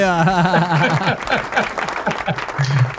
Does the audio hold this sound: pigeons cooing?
no